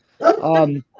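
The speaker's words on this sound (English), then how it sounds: "my other dog decided to start barking" A dog gives one close, loud bark with a tonal, whining edge, followed by a short faint yip.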